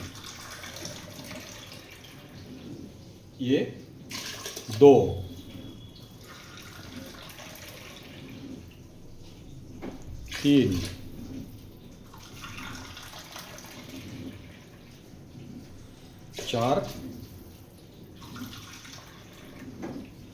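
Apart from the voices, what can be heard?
water being poured into a NutriCook pot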